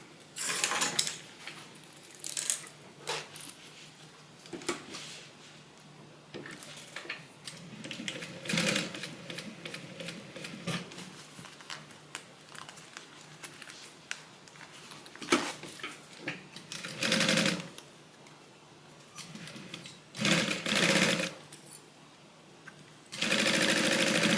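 A sewing machine stitches down part of a fabric Bible cover in repeated bursts of rapid mechanical whirring with short pauses between runs, close and fairly quiet, with no talking.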